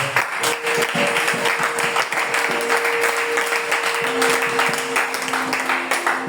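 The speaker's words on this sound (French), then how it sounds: "J'entends des acclamations, s'il vous plaît." A church congregation claps and cheers continuously throughout, the dense applause layered over sustained keyboard-like tones from a worship service.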